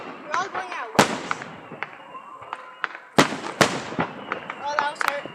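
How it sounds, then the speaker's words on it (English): Fireworks bursting outdoors in a series of sharp cracks and booms, two or three loud reports standing out among smaller pops and crackles, with people talking throughout. "There's a lot of fireworks."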